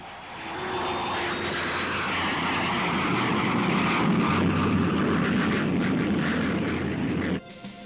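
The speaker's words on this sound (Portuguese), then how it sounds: "aviões para grandes altitudes, como este U-2 americano" An American U-2 high-altitude spy plane flies past with a steady, loud engine roar and a faint rising whine, sustained for several seconds before cutting off abruptly.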